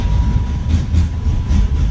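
A tram ride through the Saltivka district of Kharkiv, heard from inside the car: a loud, continuous low rumble of wheels on rails with rhythmic thumps and a thin steady whine, and no voices.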